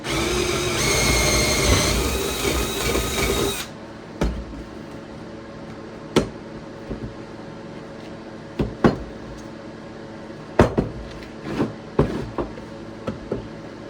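A drill boring a hole in a wooden block for a carpenter bee trap, a loud close whine for a few seconds, then quiet with scattered knocks and clicks of handling.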